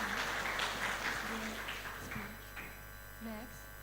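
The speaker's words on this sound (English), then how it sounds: "Please give him a round of applause." Audience applause at a formal university knowledge exchange programme ceremony, a dense steady clatter of clapping hands filling the room and slowly thinning out, with a voice speaking over it.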